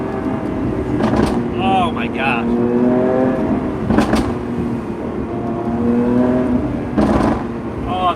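A 2020 Lamborghini Aventador SVJ Roadster engine revs loudly and close by, its pitch climbing and falling in repeated surges while a person exclaims over it.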